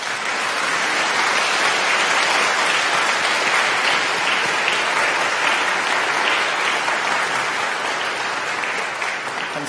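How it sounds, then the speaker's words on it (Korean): Congregation applause welcoming guests during a Sunday Eucharist service at Kyungdong Church, dense steady clapping from many people filling the room for about ten seconds without pause. "함께 일어나 주시면 환영의 박수로 맞이하겠습니다"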